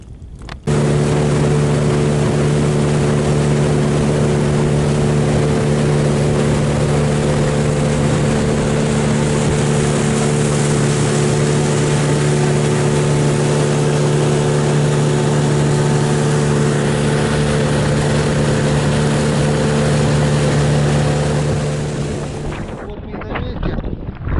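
A motorboat heads out across shallow water on a cool autumn fishing trip for perch and pike, its engine holding a steady, loud drone with strong tonal hum for about twenty seconds, wrapped in heavy wind buffeting before cutting off near the end.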